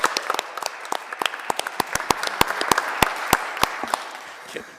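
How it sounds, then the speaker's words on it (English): A small group claps for a new town assessor at a town council meeting, a brief round of distinct, close hand claps that tapers off within a few seconds. "If we give a round of applause for our new assessor."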